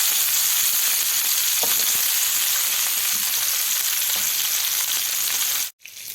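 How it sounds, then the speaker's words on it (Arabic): Sausage frying in a pan gives off a loud, continuous sizzle that cuts out sharply near the end as it is flipped, then resumes more quietly. "وهقلبه طبعا علشان ياخد تحمير من ناحيتين"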